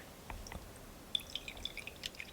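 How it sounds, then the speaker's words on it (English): Plain clear water is poured into a dye mixture, with quiet dripping and trickling under low background hiss, faint and close. "I'm just going in with some clear, just plain water"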